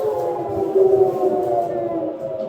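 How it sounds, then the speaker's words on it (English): A wailing air raid siren drones steadily in a museum, a sustained mournful tone that swells slightly before holding on, with no voices over it. "you can hear the air raid sirens"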